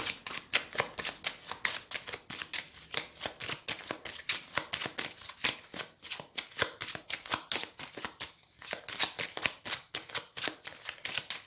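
A deck of tarot cards is shuffled and cut, producing a fast, continuous run of crisp riffling clicks and soft slaps, close and fairly quiet, with no talk over it.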